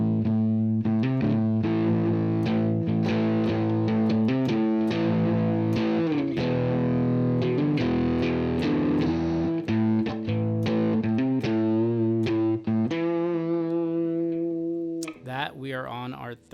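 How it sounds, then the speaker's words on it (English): Electric guitar run through a Universal Audio Lion amp plugin set for lead distortion, playing sustained, saturated chords and notes with a thick harmonic buzz, loud and steady throughout before a brief pause and switch near the end. "This is a more lead distortion kind of plugin"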